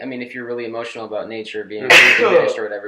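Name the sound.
sneeze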